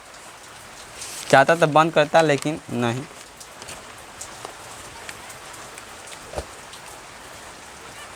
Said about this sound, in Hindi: क्योंकि बारिश हो रहा है इसलिए